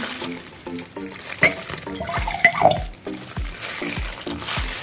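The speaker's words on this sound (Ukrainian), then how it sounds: "ми додаємо воду." Water splashes and trickles into a glass in short bursts during a chemistry demonstration, close by, with clinks of glass and faint low voices in the background.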